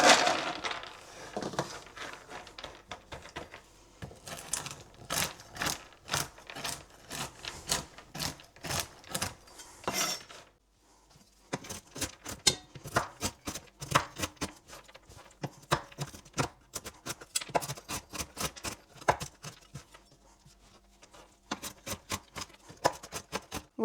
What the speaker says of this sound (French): je vais juste venir les couper grossièrement au couteau